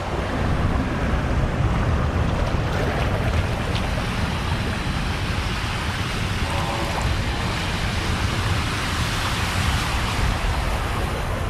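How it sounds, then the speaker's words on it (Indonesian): Fast-flowing flash flood water rushing through Mecca after a storm: a constant loud roar of churning water and wind buffeting close to the microphone, with no talk. "Ini airnya cukup kenceng kalau banjir di sini tuh."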